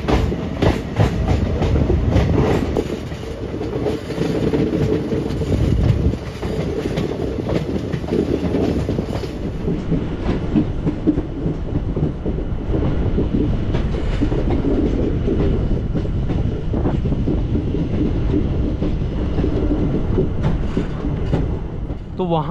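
Passenger train on the scenic hill section near Haflong, on the Guwahati to Agartala route, running on the railway track: a loud continuous rumble with rhythmic clickety-clack of wheels over rail joints and faint metallic squeals, heard from onboard.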